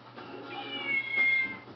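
A toy kitten gives a drawn-out electronic meow, high and steady, heard close and alone over a faint low hum.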